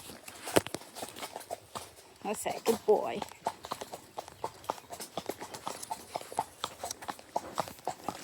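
Horse hooves clip-clopping at a walk along a British country lane, a close, fairly regular rhythm of shod hoofbeats, with a rider speaking briefly and softly to the horse.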